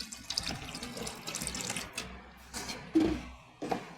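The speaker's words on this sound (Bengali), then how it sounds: "এবার আমি পরিমাণ মতন জল দিয়ে দেবো" Water poured into a pressure cooker holding jackfruit seed dal, a faint splashing trickle in short bursts with a few louder gushes near the end.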